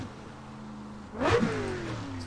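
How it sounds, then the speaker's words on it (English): Nissan S15 drift car engine, idling low and steady before a sharp, loud rev that rises in pitch and then falls back, heard up close with no talking. "And a lot of people are saying we need better, louder car sounds."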